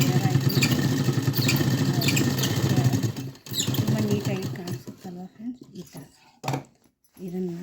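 A sewing machine stitching cloth, heard as a close mechanical whirr and rattle that drops into short bursts, with a person talking over it.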